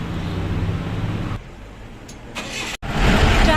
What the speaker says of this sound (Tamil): டிராஃபிக்லாம் ஃபுல்லாக கிளியர் ஆனோட்டி நம்ம வண்டி திரும்ப கிளம்பிடுச்சு கௌரிகுண்ட்க்கு